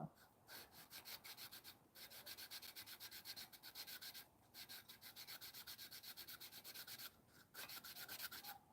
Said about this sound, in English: Wet sanding some headers to try and get as smooth a surface as I can for when I wrap it.